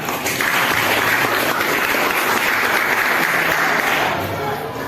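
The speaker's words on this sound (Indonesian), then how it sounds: "Tepuk tangan." Children in a classroom clapping together, a dense burst of close applause lasting several seconds before fading slightly at the end.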